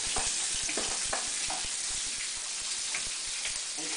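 A cream cheese sauce sizzles and bubbles steadily in a hot pan, a continuous frying hiss with small pops and occasional stirring knocks, close and moderately loud.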